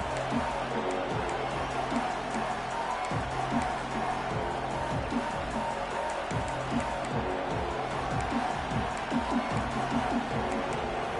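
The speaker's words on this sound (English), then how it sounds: "This crowd going to try to make life miserable for these guys." Stadium crowd in a college football video game, Texas A&M at Oklahoma, a steady dense roar of fans at moderate level with faint cheering swells and a low rhythmic chant or drum pattern underneath.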